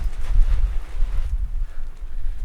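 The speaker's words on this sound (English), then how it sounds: "It's a bit windy" Wind buffets the microphone outdoors in a field in low gusty rumbles, loud and close, rising and easing over a couple of seconds.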